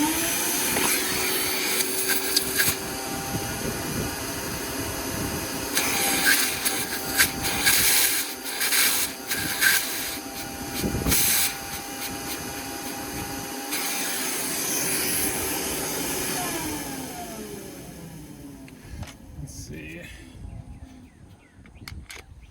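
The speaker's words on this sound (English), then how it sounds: "So I'm gonna vacuum that." A shop vacuum roars steadily and close while it cleans debris out of a cylinder head bolt hole on a Freightliner cabover truck, the suction pitch shifting as the nozzle moves, with no talking.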